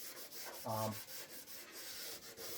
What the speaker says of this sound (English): I'm just letting the sandpaper do the work.